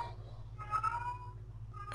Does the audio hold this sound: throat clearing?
no